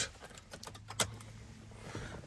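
Car keys jangle near the ignition of a Lexus LX470 (UZJ100) as the key turns, with a brief metallic rattle and a sharp click partway through, over a faint low vehicle hum.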